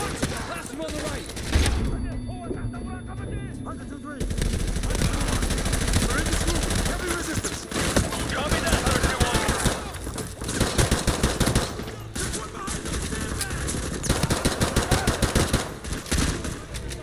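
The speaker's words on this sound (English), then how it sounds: "We are taking heavy fire from the school." Heavy automatic gunfire and explosions in a Call of Duty Modern Warfare 2 battle, loud and continuous with dense bursts of rapid fire, radio voices talking over the combat.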